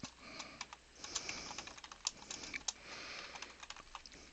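Typing a folder name on a computer keyboard: a quick run of light, close key clicks over a few seconds, quiet and uneven in rhythm.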